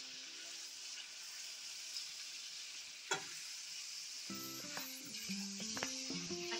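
Spice paste with tomatoes for biryani frying in a pan, a steady close sizzle with scraping stir strokes and clinks of a utensil growing busier toward the end.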